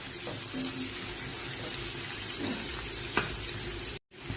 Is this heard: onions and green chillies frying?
yes